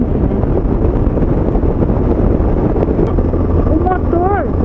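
A 250cc motorcycle cruising on a highway near 120 km/h gives a steady, loud, low roar thick with wind rush that runs unbroken throughout, with a voice briefly rising near the end.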